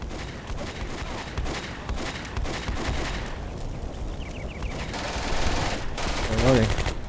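Machine gun fire crackles in bursts during a World War II battle in the video game Combat Mission: Beyond Overlord, a dense stream of distant shots under a busy battlefield mix that grows louder toward the end.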